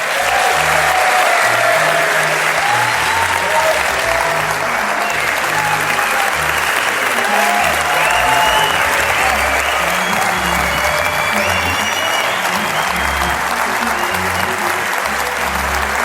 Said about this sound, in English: Let's have another continued round of applause for the send-off for Dr.